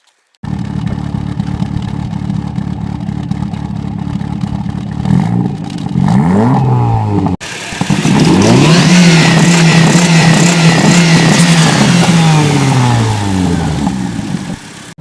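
Turbocharged Pontiac Sunfire car engine idling and then revving hard as it accelerates on a road, loud and close, with rising and falling engine pitch across several gear pulls.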